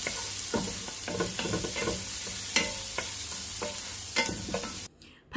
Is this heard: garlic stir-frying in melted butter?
yes